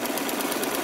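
A sewing machine fitted with a walking foot stitches flannel in a rapid, even mechanical rhythm, loud and close, over a brief stretch with no speech.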